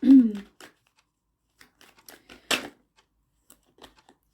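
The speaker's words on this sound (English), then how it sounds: "So that's my shuffling there." Tarot cards are shuffled in short, crisp riffling bursts close by, with scattered quiet taps and pauses between them and a brief voice at the very start.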